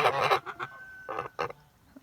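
Kholmogory geese honk in short, loud bursts near at hand, a few separate calls spaced across a brief moment with quiet gaps between them.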